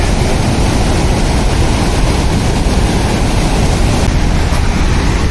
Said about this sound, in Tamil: தண்ணி அப்படியே பயங்கரமாக போய்கிட்டே இருக்கு